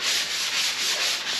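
Sanding lightweight blue drywall joint compound on a garage wall being turned into a woodshop, a close, loud, raspy scratching with a rhythmic back-and-forth swish, no voices.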